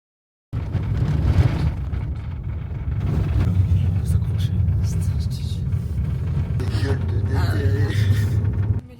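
A steady low rumble of a car driving on the road toward the geysers, heard from inside with constant road and wind noise, loud and continuous after a brief silent start, with faint voices in the background.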